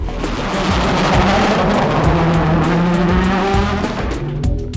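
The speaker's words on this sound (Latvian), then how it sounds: "gaidot, kad sporta automobiļu dzinēji pieducinās Kurzemes gaisu" Loud rally car engine roaring and revving at speed during the Kurzeme Rally in Liepāja, Latvia, with gear changes and a steady, close, continuous racing drone throughout.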